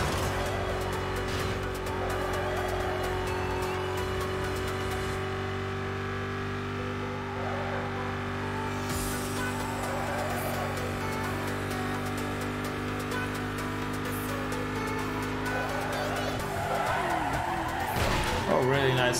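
A car drifts in Need for Speed Most Wanted, its engine roaring steadily and loudly and its tires squealing in stretches, rising at the end, with a voice talking over it.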